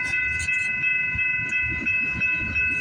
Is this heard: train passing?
yes